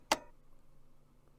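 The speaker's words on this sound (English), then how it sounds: "the clicking sound is slightly different." A safe dial in a video game is turned to a new position and gives a single sharp, fairly loud click, followed by near silence with a faint second tick.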